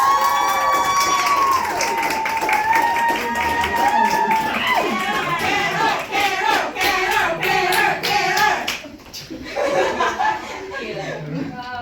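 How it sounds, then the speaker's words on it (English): At a Park Coach Academy graduation, an audience claps and cheers for a student about to speak, a lively crowd of claps, whoops and chuckles with voices calling out over it before easing off near the end. "let's give a round of applause first for Carolina, our student, to give her presentation"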